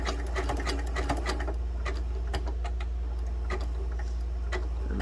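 A sewing machine stitches quilted fabric for a vase, running steadily with a fast ticking needle and a constant low motor drone, close up, slowing as it nears a corner.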